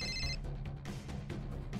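A telephone ringtone chirps briefly at the start, then gives way to a low background hum with faint rustling.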